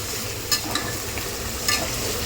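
Country chicken curry cooking in a pan, with a steady low sizzle and frying hiss throughout and a couple of brief stirring scrapes of a utensil against the pan, close and moderately loud.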